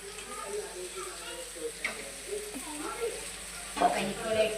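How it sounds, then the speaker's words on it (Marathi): Masala sautés in a kadhai for a peas, potato and cauliflower sabji, a faint steady sizzle with occasional scraping stirs while people talk nearby. "आता एकीकडे आपण मसाला परताय घेऊ."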